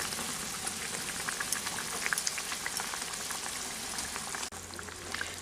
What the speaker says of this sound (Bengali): এই ঝোলটা আমাদের ফুটে উঠেছে, তো এখন আমি এই ভেজে রাখা কোপ্তাগুলোকে দিয়ে দিচ্ছি।